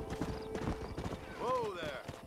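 Horse hooves clop in the Red Dead Redemption video game, a brief close run of hoofbeats with a short whinny while voices talk over them.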